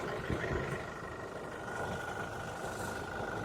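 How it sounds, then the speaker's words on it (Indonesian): A 2019 Toyota Innova Venturer diesel engine idles steadily nearby at warm temperature, a low rumbling chug with a constant hum, no speech over it. "bantu starter nyalakan suara mesinnya"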